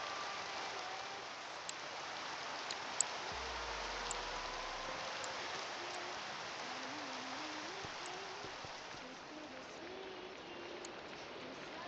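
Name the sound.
rain in video game modpack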